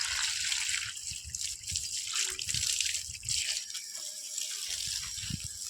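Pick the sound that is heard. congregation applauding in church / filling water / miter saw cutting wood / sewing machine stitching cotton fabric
filling water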